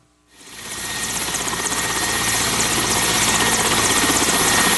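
A police helicopter's rotor swells in quickly and then holds a loud, steady, close thrumming roar with no speech over it.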